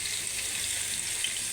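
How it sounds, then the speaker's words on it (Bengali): Onions frying in a pan, with a steady, fairly quiet high sizzle that runs continuously with no voices over it. "পেঁয়াজটাকে আমি বাদামি কালার করে ভেজে নিব।"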